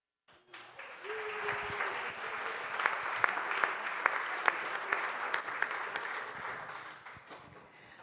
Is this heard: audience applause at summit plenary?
yes